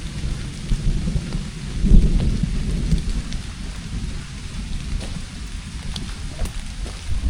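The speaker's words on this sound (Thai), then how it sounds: "ฝนก็ตกพอฝน" Steady heavy rain in a thunderstorm, a dense continuous hiss of drops with a low rumble of thunder swelling early on, close and loud throughout.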